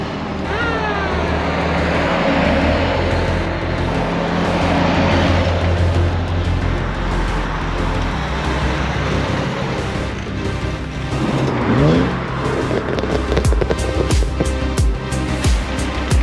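Engine and road noise from inside a moving 1949 Jeep Willys CJ-3A, steady and rumbling with occasional revs, followed by clicking and knocking near the end.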